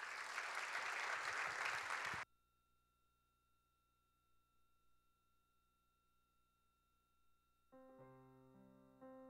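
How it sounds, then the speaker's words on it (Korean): At a church young adults' worship service, the congregation breaks into dense applause for about two seconds before it cuts off to a low hum, followed later by soft sustained organ or keyboard tones. "우리 9일 또래 이지은 자매님 나오실 때 큰 박수로 함께 모시겠습니다."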